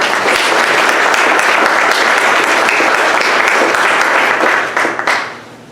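An audience at a community forum gives a big, loud round of applause, dense and sustained from many hands, then it tapers off quickly near the end.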